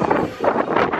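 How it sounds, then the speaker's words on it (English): Gusty wind blows hard against the microphone in uneven surges, close and fairly loud, with no one talking. "it's pretty windy"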